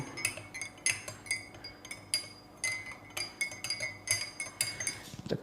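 A metal spoon stirs turmeric powder in a glass, clinking against the sides in quick repeated taps, fairly close and moderately loud, with no talking.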